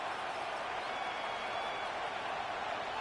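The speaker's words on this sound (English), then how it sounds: "This crowd into it now as we get to 3rd down." A stadium crowd in an American football video game roars in a steady, dense wash of cheering, fairly distant and even with no distinct claps or voices.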